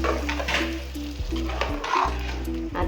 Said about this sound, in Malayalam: കറിയിലോട്ട് ഒഴിച്ച് കൊടുക്കാം. നല്ലോണം ഇളക്കിയെടുക്കാം.